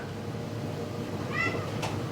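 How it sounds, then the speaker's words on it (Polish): A cat gives one short meow at close range over a steady low background hum, with a faint brief squeak just after it. "Co tu robi kot?"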